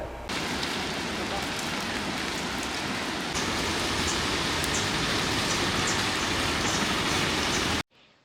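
Dense, steady heavy rain pouring down near the Bhoothathankettu dam on the Periyar river in Kerala, a loud continuous hiss with scattered drops, cutting off abruptly at the end.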